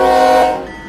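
A K5LH train horn, the 05 version, sounds in the Run 8 train simulator game: one loud, sustained chord that holds steady and then drops off into a fading tail, with no talking over it.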